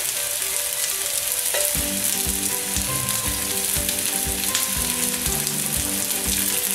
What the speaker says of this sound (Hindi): इसको हम मीडियम फ्लेम पर ही सेकेंगे, और हल्का सा ऑयल डालेंगे इस तरफ भी।